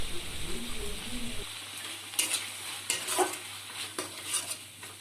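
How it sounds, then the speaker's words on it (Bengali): Ground turmeric, chilli and cumin sautéing with crushed ginger in a pan for jackfruit and chana dal, a soft steady sizzle with a few scraping stirs and light utensil clinks, fairly close and without talk. "ভালো করে মশলাগুলো কষিয়ে নিব।"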